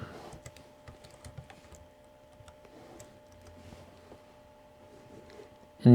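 Keys tap on a computer keyboard in a quiet room, a faint, irregular run of light clicks, with a louder bump right at the end.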